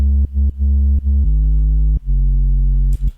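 Saturated hip hop sub bass made with Ableton Operator: deep, buzzy held notes in a choppy rhythmic pattern, shifting pitch a few times, loud and alone, ending with a short noisy hit.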